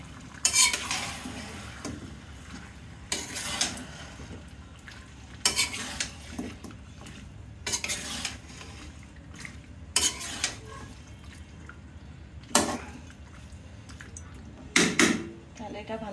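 Chicken skin curry with potatoes being stirred in a metal pot, spoon scraping and clanking in irregular bursts over a low background, with a voice talking between the strokes.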